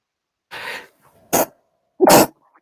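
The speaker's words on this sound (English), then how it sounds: "That was an out of character sneeze." A single sharp sneeze bursts out after a soft breathy sound and a brief snort, loud and close against quiet.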